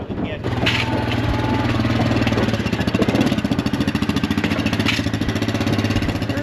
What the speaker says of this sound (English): It's just the right size for a four-wheeler.